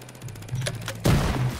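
Rapid gunfire from Rainbow Six Siege crackles in a steady burst, followed by a louder, closer volley of shots with a booming low-end impact.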